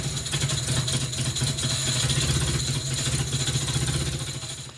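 The engine of a 1975 Mercedes 280SL idles steadily after new fuel injectors have been fitted. It makes an even, close and fairly loud mechanical drone with a constant low hum and no voices.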